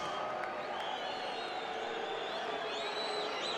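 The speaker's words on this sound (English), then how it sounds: "a round of applause for Anne-Marie Boscovich" Boxing arena crowd greeting the national anthem singer with sustained, distant applause and scattered cheers and whoops, a continuous wash of noise without distinct claps.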